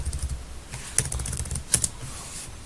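Keys tapped on a computer keyboard during a MySQL query demonstration, a few light, irregular clicks with two sharper strikes near the middle, close and fairly quiet over a low background hum.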